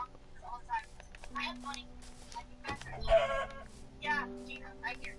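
A Minecraft chicken clucks in several short, nasal bursts over quiet game ambience, fairly close but soft, with a person talking around the calls.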